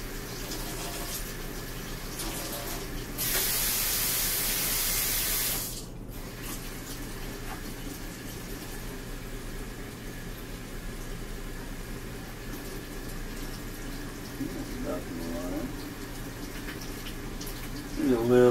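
Cold tap water pours into a self-cooking instant noodle hot pot in a hissing burst of a couple of seconds, followed by quiet handling noises and soft talk.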